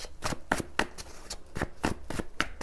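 Cards are shuffled up close for a card reading, a string of sharp riffling bursts that repeat in a quick, uneven rhythm.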